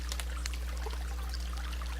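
Water scooped from a shallow natural source with a small dipping scoop trickles and pours into a filter bag, soft uneven splashes over a low steady hum.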